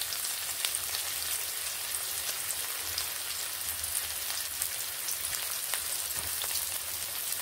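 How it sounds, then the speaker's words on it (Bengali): Chopped onions and minced garlic frying in a pan, giving a dense, even sizzle and crackle with faint stirring scrapes, close and continuous with no voices. "পেঁয়াজ ও তার সঙ্গে আমি যে রসুনগুলো রেখেছিলাম কুচিয়ে বা ঝুরি করে, সেই রসুনগুলোকে আমি এখানে দিয়ে দিলাম।"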